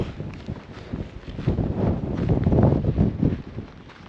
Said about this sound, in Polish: Wiatr straszny. uch ale taki mo mocarny.